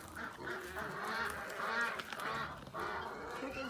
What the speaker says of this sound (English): This is all my ducks, my guinea hens, and my chickens.